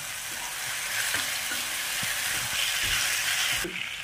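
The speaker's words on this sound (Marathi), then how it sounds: "आता ही टोमॅटो मी टाकत आहे, ही परतवून घेत आहे 1-5 मिनिटं।" Chopped tomatoes sautéing in a pan with ginger-garlic paste and curry leaves for a fish curry, a continuous soft sizzle punctuated by scattered spoon-stirring clacks.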